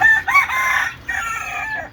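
A farmyard rooster crows loudly and close by, one long strained crow broken into two rising and falling phrases, with no other sound around it.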